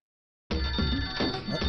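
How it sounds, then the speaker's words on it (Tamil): A telephone rings in a dramatic film scene, starting abruptly after silence with a loud, steady electronic ring that continues to the end. "ஃபோன் வருது."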